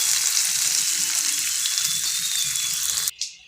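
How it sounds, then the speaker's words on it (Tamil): Protein-rich rasam with browned onions boils hard in a pot, a steady bubbling hiss close by that stops abruptly near the end. "ஃப்ரெண்ட்ஸ், நல்லா கொதித்து வருது."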